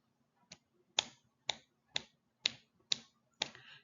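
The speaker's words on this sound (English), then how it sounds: "Soft clap. So gently bring your hands together." Seven soft hand claps, gentle and fairly faint, spaced at an even half-second rhythm with a short trailing scrape after the last; no talking.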